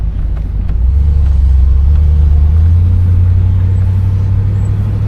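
A 1974 Pontiac Grandville with its 455 engine accelerating, a loud, close, deep rumble that swells and steadies as the engine pulls, heard alone without voices.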